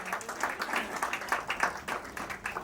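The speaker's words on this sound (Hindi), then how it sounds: "जोरदार तालियां।" An audience at a Hindi poetry book launch claps: dense, lively applause from a small crowd, fairly close and steady through the short stretch.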